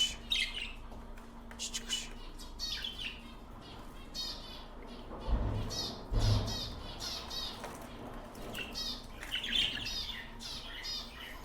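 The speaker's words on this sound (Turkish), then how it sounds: "Bakın Chico konuşmaya çalışıyor bir yandan." A small bird chirps and squawks in quick repeated bursts, fairly faint, with a muffled thump or two partway through.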